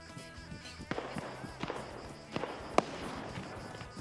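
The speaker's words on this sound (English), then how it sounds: "Is he trying to shoot me? Yes, he is." Enemy gunfire in a tactical military shooter, sharp scattered shots cracking out at irregular intervals, several close bursts with one loud crack near the end, over steady background noise without speech.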